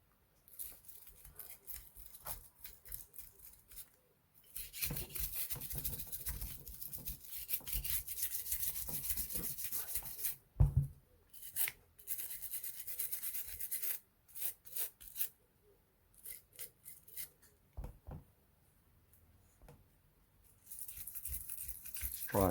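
Brush scrubbing dirt from the extractor of a CZ Shadow 2 competition pistol, close, quiet rubbing strokes in uneven bursts with brief pauses.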